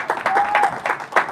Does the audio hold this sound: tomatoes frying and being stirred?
no